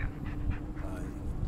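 A dog pants in the Blair Witch video game, with soft, rapid breaths repeating steadily at close range over a low background.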